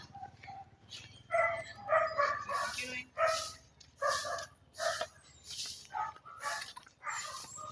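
Dogs bark in a series of sharp, repeated yaps and barks at moderate distance along a market walk, with street ambience and a voice talking between the barks.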